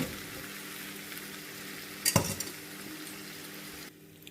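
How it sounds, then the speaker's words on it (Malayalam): Fried cauliflower tipped into a hot pan of sauce for Gobi Manchurian, a steady sizzle throughout with a brief loud clatter and stir near the middle, then the frying quiets at the end. "ഇനി നമ്മൾ വറുത്ത് വെച്ചിരിക്കുന്നതായ കോളിഫ്ലവറോടെ നമുക്ക് ആഡ് ചെയ്യാം."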